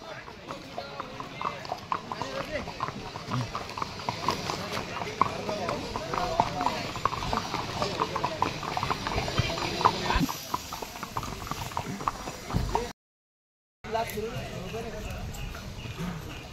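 Horse hooves clip-clop on a path at Matheran hill station in rapid irregular steps, close and steady, while several people talk over them throughout.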